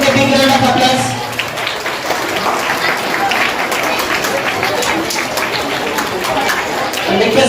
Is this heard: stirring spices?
no